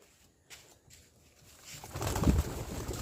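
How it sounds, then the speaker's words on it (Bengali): Domestic pigeons kept by a family for six or seven years, outdoors; soft low cooing and bird sounds build up in the second half, rising from near quiet to a steady close murmur. "তো দেখতে পাচ্ছেন আমাদের কবুতর।"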